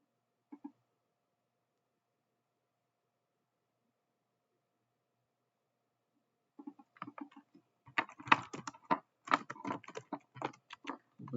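Keys clatter on a computer keyboard in a quiet room: a single faint tap, a long silence, then a burst of rapid, irregular typing close to the microphone.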